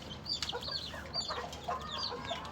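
Chickens clucking close by in a pen, with several overlapping soft clucks and calls repeating across the moment, moderately loud against a steady background.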